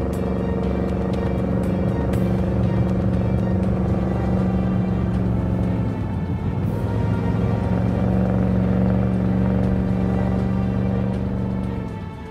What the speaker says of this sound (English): watching a Porsche Cayenne tow one of the largest aircrafts in the world